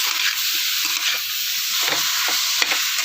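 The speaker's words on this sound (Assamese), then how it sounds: "এনেধৰণে অকণমান মই চেনিটোৰ সৈতে লৰাই দিছোঁ" Sour mango pickle is stirred with sugar in a hot pan, a steady close sizzle broken by repeated soft scraping and stirring sounds.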